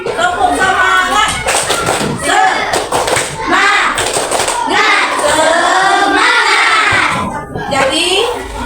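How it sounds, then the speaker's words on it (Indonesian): A classroom group of children performs a rhythmic spirit clap, patterned bursts of hand claps and taps with lively young voices chanting and shouting along throughout. "Tepuk semangat."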